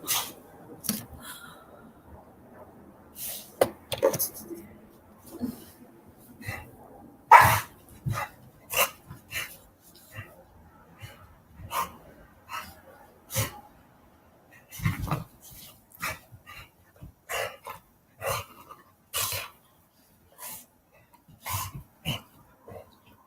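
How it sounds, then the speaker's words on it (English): A dog with the zoomies barks in short sharp bursts scattered across the stretch, with scuffling and a few whimpers between them, near and loud against a quiet room. "The dog now has the zoomies."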